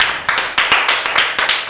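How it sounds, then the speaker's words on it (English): A short burst of hand clapping, a handful of sharp claps in an uneven rhythm, close and fairly loud, like a small group applauding. "Please clap for her."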